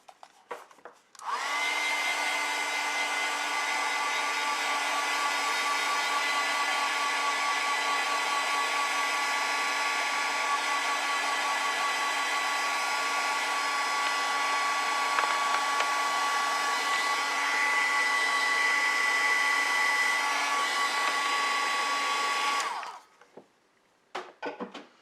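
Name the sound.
hair dryer drying an ink and wash painting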